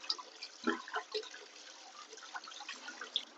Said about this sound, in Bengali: এবার মাংস ধুয়ে নিই।